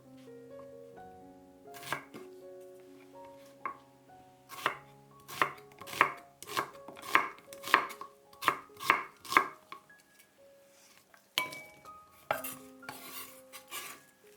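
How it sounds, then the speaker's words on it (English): A knife chops two onions into chunks on a cutting board for a beef gyudon bowl, a run of sharp, close, evenly spaced cuts, quicker in the middle, followed by a brief pause and a few more strokes. "Cut 2 onions into chunks."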